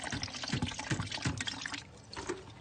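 Liquid fertiliser water being strained, with soft irregular trickling and splashing close by and a few louder gurgling spurts, fading slightly toward the end.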